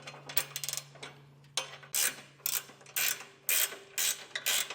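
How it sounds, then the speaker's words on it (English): A 3/4 inch socket and ratchet tightens the nut side of trailer hitch bolts on a 2024 Jeep Wrangler, producing bursts of loud, close mechanical clicking in quick repeated strokes, with no voices. "Our new hardware is going to be a 3/4 inch socket and ratchet combo, and that's to keep the head of the bolt in place as we tighten down the nut side."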